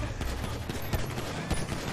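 Rapid gunfire in GTA 5 as players shoot at police, a dense run of overlapping shots over two seconds, fairly close and loud.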